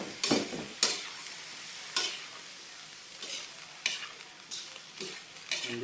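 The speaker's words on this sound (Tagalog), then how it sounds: "Ginigisa ko muna." Adobo ingredients sautéing in a pan, with a steady sizzle broken by several sharp stirring scrapes spaced a second or so apart, close and fairly quiet, with no talking.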